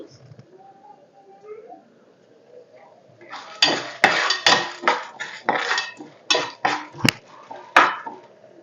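Chana dal and karampodi ingredients being fried and stirred in a pan with a utensil. After a quiet start, about a dozen sharp metallic scrapes and clinks come in an uneven rhythm, close and fairly loud.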